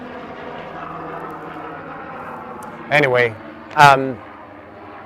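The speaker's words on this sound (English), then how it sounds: "There's a helicopter coming around, I think, or airplane." A helicopter or light aircraft drones steadily in the background throughout, a low continuous engine hum heard under two short bursts of speech near the end.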